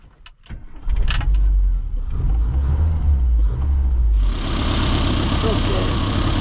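A Classic Mini Cooper RSP engine idles with a low, steady rumble close by during tuning. Engine speed increases toward the end, adding brighter noise.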